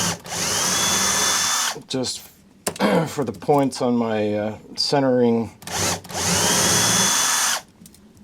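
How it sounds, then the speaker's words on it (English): A power drill bores a pilot hole in wood for lathe centers on a woodturned ornament, with two loud whirring bursts, one at the start and one at the end. Someone talks in between. "So I need to drill a pilot hole here"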